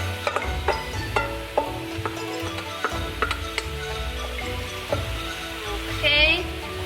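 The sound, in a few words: beef and egg mix stirred and frying in a pan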